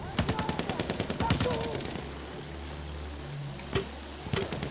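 Rapid automatic gunfire rattles out in a World War I shooter match on the Monte Grappa map, a fast burst of loud cracks, then scattered single shots over a low engine-like drone with a few distant pops.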